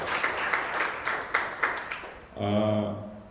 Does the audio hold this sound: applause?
yes